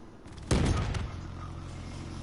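CUDA gun firing in a first-person shooter video game, a single sharp loud shot with a short echoing tail, heard alone after a brief quiet lead-in.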